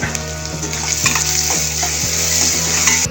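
Spices tempering in hot oil for Tamil mutton kuzhambu, a steady loud sizzle with regular soft knocks of stirring at roughly half-second intervals, close and alone without talk.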